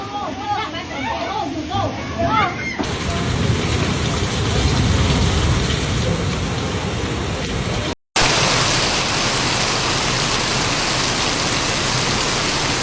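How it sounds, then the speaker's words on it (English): Heavy typhoon rain pours during Typhoon Kalmaegi in Quang Ngai, Vietnam, a dense, steady roar of rain on surfaces that fills the whole clip, broken only by a brief cut near the end. "Rain hammered rooftops with the force of gravel fired from the sky."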